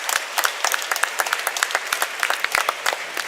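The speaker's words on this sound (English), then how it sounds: "Clapping is now in order." An assembly at a model UN conference breaks into brisk applause after a draft resolution on peace negotiations is adopted, many hands clapping close and dense for a few seconds with no talk.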